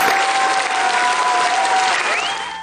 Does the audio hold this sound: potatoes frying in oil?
no